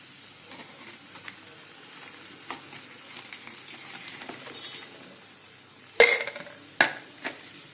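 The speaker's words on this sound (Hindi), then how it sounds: "सोया चंक्स डालेंगे।" Soya chunks tumble into simmering gravy for soyabean chilli: a quiet, steady bubbling sizzle, then two sharp clattering drops and scraping stirring near the end.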